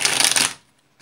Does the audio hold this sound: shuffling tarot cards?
yes